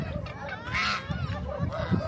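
Loud honking calls from ducks close by, overlapping and continuous, with a quieter voice talking underneath.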